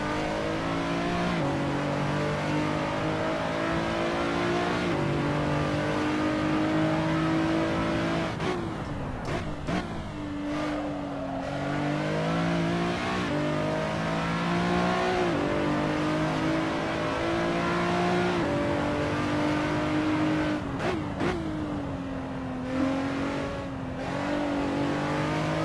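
A racing car accelerates hard around Donington in a sim racing game, its engine whine climbing through the revs with several sharp gear-change dips, loud and continuous, with no talking.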